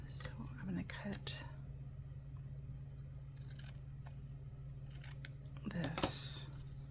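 Scissors cut through paper during a quick craft project, a soft snipping burst near the end, quiet and close, over a faint low hum with murmured voice sounds.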